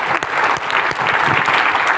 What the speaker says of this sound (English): Round of applause for this year's panel.